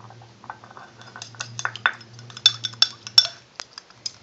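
Carp boilie flavourings are mixed in a bowl, with a spoon clinking and scraping against the sides in irregular close taps and chinks that grow sharper toward the end over a low background hum.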